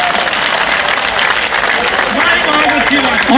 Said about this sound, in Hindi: एक बार ताली बजाइएगा।